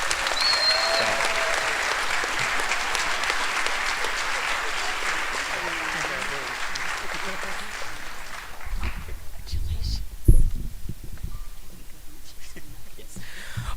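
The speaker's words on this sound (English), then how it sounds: "So one more round of applause for Brenda Baker." Audience applause at a school band concert for fifth through twelfth graders fills the room with steady, dense clapping for about eight seconds, then thins to scattered claps and soft murmuring.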